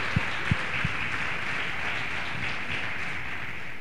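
A crowd claps in a steady, continuous wash of applause, with a few louder thumps at the start.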